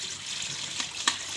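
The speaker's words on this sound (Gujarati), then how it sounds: "એકદમ ચોખ્ખા પાણીથી મેથીને ધોવાની." Fenugreek leaves washed under a running kitchen tap, a steady close hiss of flowing water with a brief louder splash near the end, no voices.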